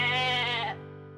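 A lamb bleats once on an open farm day, a loud, close, quavering cry with rich harmonics that breaks off abruptly, leaving a quieter steady hum afterward.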